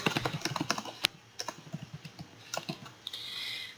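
Keys on a computer keyboard are typed in quick, uneven bursts of crisp clicks, close to the microphone, then a pause and a few more taps, with no talking.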